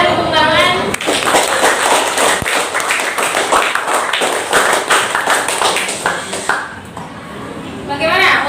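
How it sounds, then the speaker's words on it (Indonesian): Classroom applause follows a student group's presentation on constellations and the sun's apparent motion. Scattered, uneven claps come from nearby hands, with children's voices and an adult's voice talking over and around them throughout. "berikan tepuk tangan"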